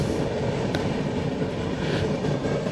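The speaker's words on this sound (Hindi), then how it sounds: "तो आप ये डिपार्चर देखें चालीसगांव रेलवे स्टेशन से" A train pulling out of Chalisgaon railway station gives a steady, loud rumble with faint clicks from the rails, heard close and continuous with no talking.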